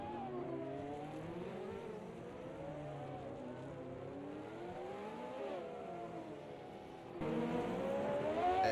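Race cars lapping the 1988 Monaco Grand Prix circuit in a sim racing event, engines whining and shifting pitch continuously, steady and fairly close, with a louder car arriving near the end.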